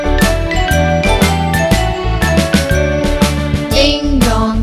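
A bright chiming nursery-rhyme tune plays loud and close for several seconds, with repeated ringing bell-like tones over a bouncing instrumental backing and no voice.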